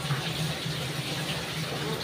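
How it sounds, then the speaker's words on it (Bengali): Goat meat being washed under running water, a steady gush of tap water pouring continuously at close range with a low hum beneath, with no talk. "খাসির মাংসটা এবার আমি ভালো করে ধুয়ে নেব।"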